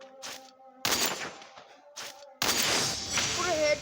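Loud shotgun blasts in a video game, a headshot among them, with sharp bursts separated by brief gaps and a long booming blast that rings out; a voice is faintly present beneath.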